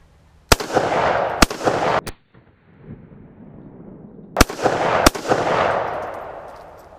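A Ruger Mini 14 ranch rifle in .223/5.56 fires cheap Red Army Standard steel-case ammo, sending out five loud, sharp cracks in two quick clusters, each trailed by a rolling echo.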